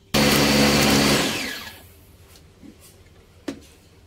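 A blender grinds fried spice paste with turmeric for opor ayam, a loud whirring burst for about a second that winds down and stops, followed by quiet with a couple of small clicks.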